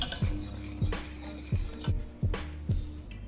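Thick macaroni cheese sauce being stirred in a pot, a steady rhythm of about six soft scraping, thudding strokes, close and fairly quiet, with no talking.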